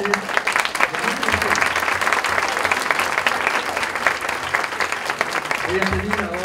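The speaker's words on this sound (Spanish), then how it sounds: "aplausos para los estudiantes." Sustained applause from an audience at an academic awards ceremony honouring top students, dense steady clapping filling the room, with a voice speaking briefly at the start and end.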